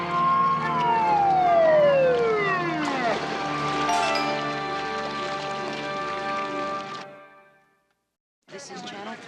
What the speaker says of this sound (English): the sound of Terwilliger's siren